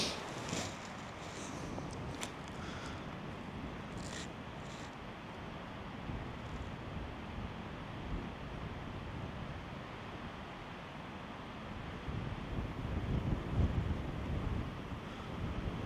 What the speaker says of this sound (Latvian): Baigais vējš.